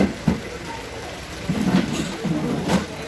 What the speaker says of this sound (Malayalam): നല്ല മഴയാണ് കേട്ടോ ഞങ്ങൾക്ക്